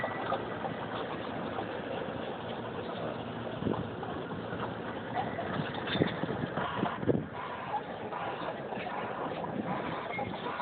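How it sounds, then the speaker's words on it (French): Steady sea wind blowing onshore across a fine-sand beach on the Corniche in Agadir, Morocco, a continuous broadband rush with gusts swelling around the middle, mixed with a low engine-like hum and no speech. "il y a toujours du vent qui arrive de la mer"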